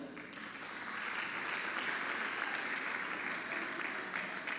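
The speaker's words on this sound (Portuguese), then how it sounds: "um salve de palmas ali para aquelas duas mulheres que estão aí, entrando aí" A church congregation at a baptism and communion service applauds two women as they enter, a steady, fairly distant wash of many hands clapping that holds evenly throughout with no clear talk.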